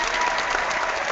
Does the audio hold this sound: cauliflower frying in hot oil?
no